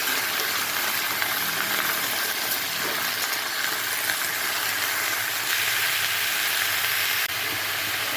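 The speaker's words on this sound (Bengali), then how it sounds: "এখন এর মধ্যে আমি ভাপিয়ে রাখা ডোকা পাতাগুলো সব দিয়ে দিব। এটাকে অল্প ভেজে নেব।" Potatoes frying in a pan with steamed dhoka leaves added, giving a steady, broad hiss of oil sizzle that runs continuously throughout without talk.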